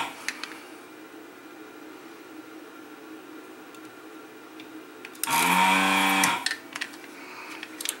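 An electric desoldering gun's vacuum pump kicks on for about a second of loud, buzzing motor whine, cutting in and out abruptly against a quiet workbench with faint ticks around it.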